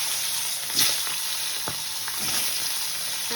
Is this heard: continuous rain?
no